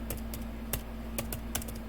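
Quick clicks of a computer keyboard while entering text in Excel, sharp individual keystrokes in an uneven rhythm over a faint steady hum.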